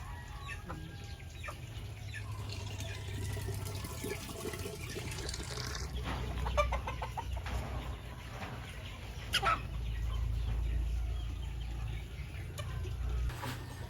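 White Kelso chickens cluck and call on a farm amid a steady low background rumble, with scattered fowl sounds throughout at moderate distance.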